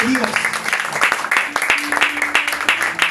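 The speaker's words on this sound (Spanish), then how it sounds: "Den un aplauso al Espíritu de Dios" A church congregation claps for the Spirit of God during a sermon, a loud uneven run of distinct handclaps with voices calling out over it.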